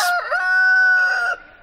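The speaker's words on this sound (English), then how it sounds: "Oh, roosters." A rooster crows once near a backyard chicken flock, a loud, close, drawn-out call that rises and trails off after about a second.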